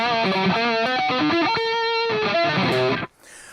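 An electric guitar played through a NUX amp with a dirty, distorted tone plays a fast run of gritty notes and chords, loud and close, then cuts off abruptly into near silence.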